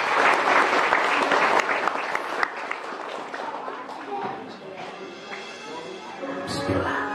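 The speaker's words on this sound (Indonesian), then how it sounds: "Tepuk tangan untuk kita semua hari ini" Applause from a crowd at an event in Istana Bogor fills the opening and gradually thins out, with some talking mixed in toward the end.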